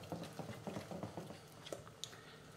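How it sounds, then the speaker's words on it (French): Whisk or spoon beating a thick batter for courgette flower fritters in a bowl, a quick irregular run of soft clicking, scraping strokes, close and moderately quiet, with no talk. "Et on continue à mélanger."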